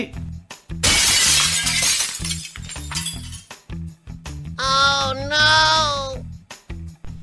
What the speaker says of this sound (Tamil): ஒரு சூப்பர் மார்க்கெட்ல இந்த ஒர்க்கர் ஒயின் பாட்டில்களை ரேக்ல அடுக்கி வச்சிட்டு இருக்கும்போது அந்த ரேக் உடைஞ்சு